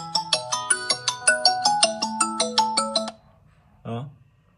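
An incoming call rings through DS800 Bluetooth earphones as a bright, fast repeating melodic tone for about three seconds, then stops, followed by a brief voice.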